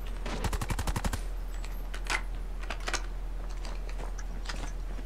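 Rapid burst of LAPA SMG fire in Call of Duty multiplayer, a fast stream of close, punchy shots in the first second followed by scattered distant gunfire and game effects.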